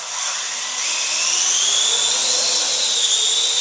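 A Parrot AR Drone quadcopter spins up for takeoff, its rotors giving a steady, loud high-pitched whine that rises slightly and holds, close by with no talking.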